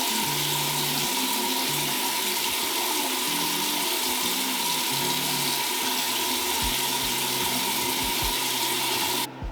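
Tap water runs steadily into a sink as face scrub is rinsed off, a close, constant rushing with faint splashes and a low shifting hum beneath, stopping abruptly at the end.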